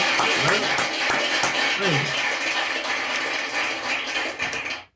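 Clapping on a livestream podcast episode, a run of sharp claps over a dense, steady background with a voice talking over it, ending abruptly near the close.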